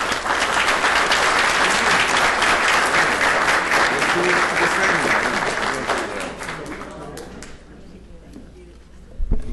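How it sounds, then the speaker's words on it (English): A crowd claps at a city council gathering in Homestead, steady broadband applause that fades gradually over the last few seconds, ending in near quiet with a couple of stray sounds. "please give a round of applause to these wonderful people"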